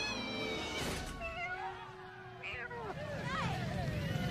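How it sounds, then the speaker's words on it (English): A cat meows repeatedly in a film comedy scene about rescuing cats, the cries rising and falling over background crowd murmur and film soundtrack noise. "Holy shit, it's a cat."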